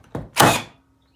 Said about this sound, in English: Take the 36 volt battery and slide right on.